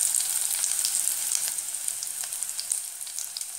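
Onion and curry leaves fry in oil for a Mangalorean-style chickpea and ivy gourd curry, giving a steady, bright crackling sizzle with small sputtering pops throughout and no voices.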